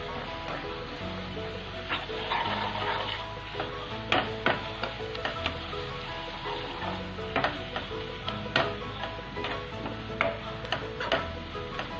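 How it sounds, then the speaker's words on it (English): Onion, ginger, garlic and curry leaf masala roasting in a pan over a slow flame, with a soft steady sizzle and irregular clicks of a spoon stirring, fairly quiet and close, with no talk. "roast it for another 4 to 5 minutes on slow flame"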